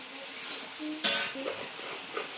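Chopped onions drop into a pan of frying meat with a sudden loud hiss, then a quieter sizzle and light stirring carries on close by.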